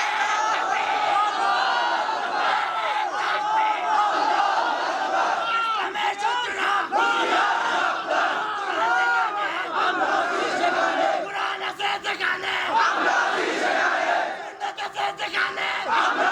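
A large crowd at an Islamic religious gathering (waz mahfil) in Jamalpur roars the takbir in unison, a dense and loud wall of massed voices that stays steady throughout and thins slightly near the end.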